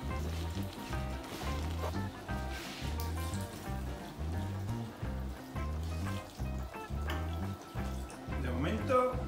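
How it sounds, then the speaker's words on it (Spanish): Water pours into a cooking pan of beef on the stove, a continuous trickling and splashing that blends with sizzling under a steady rhythmic pulsing background, close and moderate in level with no voices. "Y ahora nos vamos a ir por un poquito de agua."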